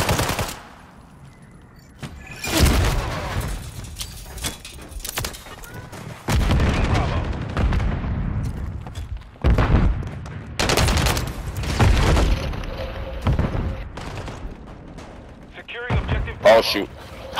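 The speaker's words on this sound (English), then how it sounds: "These grenades are constantly killing when I'm nowhere near them." Call of Duty match with sustained bursts of automatic gunfire and heavy grenade blasts, loud and close, rolling in waves, with a player talking over the combat.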